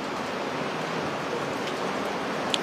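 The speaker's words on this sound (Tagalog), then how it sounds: "Kasi umuulan eh." Rain falls in a steady, even hiss that fills the whole stretch without letting up, with no voices over it.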